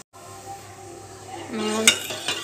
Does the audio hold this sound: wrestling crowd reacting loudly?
no